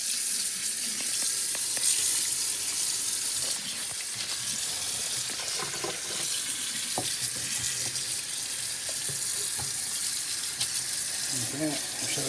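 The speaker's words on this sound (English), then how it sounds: "Now we run some cold water over it." Cold tap water runs steadily over food in a kitchen sink, a loud continuous hissing splash that lasts the whole clip, with no talking.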